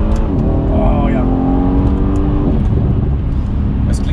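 A 600 hp Mercedes C63 AMG V8 rumbles and revs loudly, rising in pitch then settling into a deep throb, with people talking over it.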